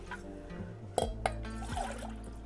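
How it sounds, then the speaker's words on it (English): Water poured into a pot of aloo matar pulao with basmati rice, peas and potatoes, a steady close trickle with a couple of sharp splashes as the cups are emptied, no voices. "We will add at least 2 cups of water."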